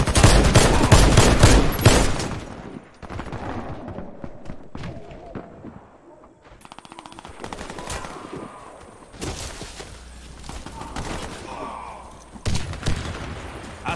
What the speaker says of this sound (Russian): Граната пошла!